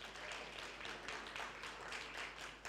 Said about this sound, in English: Now, that is the kind of round of applause that I need for the names that I'm going to read.